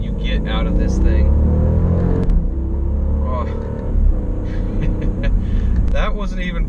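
Engine of a 2015 Jeep Grand Cherokee SRT accelerating at about quarter throttle, a steady loud low rumble heard from inside the cabin with a brief shift around the middle, under a person talking throughout.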